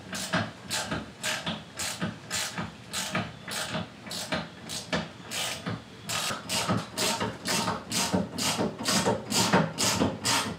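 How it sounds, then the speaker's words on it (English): Floor jack pumped under a 2022 Harley-Davidson Road Glide, giving a steady series of close ratcheting, clicking strokes roughly twice a second that build slightly in loudness, with no speech. "You start jacking it, the bike will automatically come up straight."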